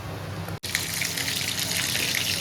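Water pours steadily in a continuous splashing stream into cooking masala for a crab curry, close by, after a brief pause at the start.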